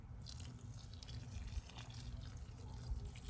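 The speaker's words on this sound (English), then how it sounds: "What I am going to do is water these first, because those seeds are going to disappear." Water drips and trickles onto freshly planted seeds in a garden bed, a soft, steady, close patter over low background rumble with no talking.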